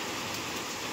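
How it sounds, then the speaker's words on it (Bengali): Heavy rain falls outside as a dense, even hiss with no break across the short moment. "দেখো বাইরে কি জোর বৃষ্টি হচ্ছে"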